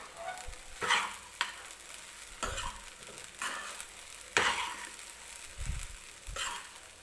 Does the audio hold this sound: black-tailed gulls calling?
no